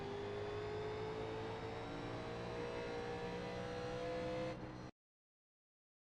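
A NASCAR Legends stock car in the iRacing sim at Richmond accelerates under full throttle, its engine note a loud, steady drone with a slowly rising pitch for about four and a half seconds before cutting abruptly to silence.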